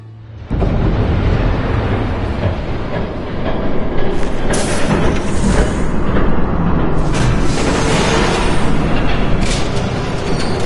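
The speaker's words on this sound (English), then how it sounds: "There's a train coming." A train approaches in Telltale's Batman, a loud continuous rumble and rattling roar that swells and stays heavy throughout, with rushing hiss and clanking surges, no voices.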